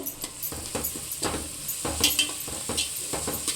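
Ginger garlic paste sizzles and fries in a hot pan, a steady close crackle broken by a few scrapes of a stirring spoon against the metal.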